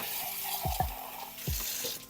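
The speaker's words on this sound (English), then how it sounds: "Black beans, I'll just give them a little rinse in cold water because of the color that's in them." Black beans getting a quick rinse under cold running water, a soft steady trickle broken by a few brief splashes and clinks.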